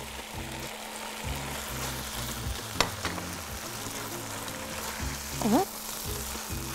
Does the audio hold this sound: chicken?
yes